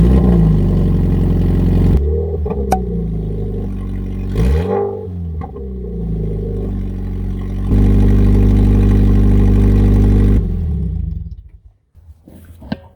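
A Scion FR-S engine runs with an open pipe exhaust, loud and close: a raspy idle broken by sharp throttle blips and a rising rev that swoops back down, more steady running, then the engine shuts off.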